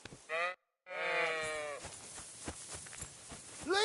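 Sheep bleating in the medieval village of the video game Kingdom Come: Deliverance 2, two clear wavering bleats close by, then a third starting at the end, over a soft ambient background.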